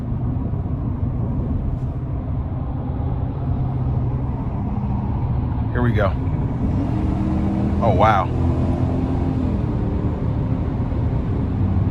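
A 2025 Chevy Silverado 1500 LTZ with the 5.3 V8 pulls hard from inside the cabin, a steady low engine drone rising with road noise while someone speaks briefly over it.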